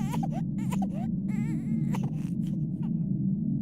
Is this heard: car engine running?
no